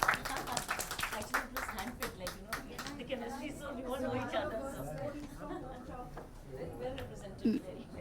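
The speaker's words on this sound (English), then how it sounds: "A huge round of applause for all of them." Applause and clapping from an audience at an International Women's Day 2020 celebration, crisp at first then fading into loud crowd chatter and voices.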